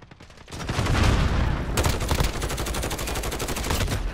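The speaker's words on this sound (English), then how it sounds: "Oh my god, that was horrendous shooting!" Rapid bursts of automatic gunfire in the survival game Rust, loud and close, start after a short pause and continue as a dense, rattling stream of shots to the end.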